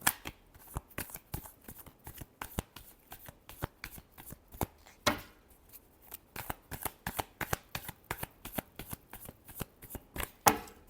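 Tarot cards are shuffled in a quick, steady stream of soft, close riffling snaps, repeated rhythmically for about eleven seconds with no voices.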